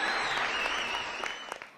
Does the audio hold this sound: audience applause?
yes